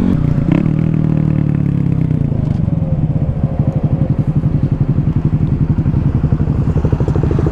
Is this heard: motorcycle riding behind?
yes